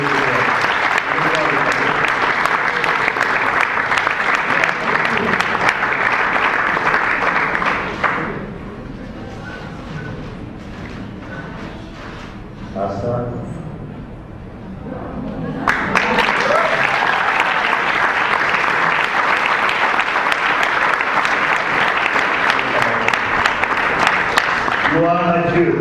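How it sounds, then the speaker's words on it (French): Loud, sustained applause from a church congregation fills a long stretch, dipping briefly in the middle while voices carry on, then surging back to full strength until the end. "Est-ce qu'on peut acclamer?"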